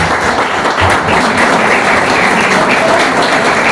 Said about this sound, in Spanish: ¿Puedo pedir un aplauso para Susana?